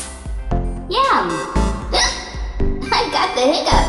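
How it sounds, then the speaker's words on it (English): A child hiccups several times in quick, sharp bursts while talking, heard close and loud with speech between the hiccups. "I got the hiccups."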